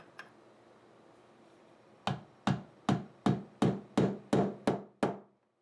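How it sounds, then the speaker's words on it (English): A light hammer tapping a night sight into a Walther PPS pistol slide, nine crisp, evenly spaced taps after a quiet pause, close and clear with nothing else over them. "Progressive light taps are a lot better than really, really hard taps"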